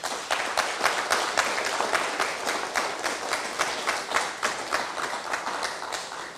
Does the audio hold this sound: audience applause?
yes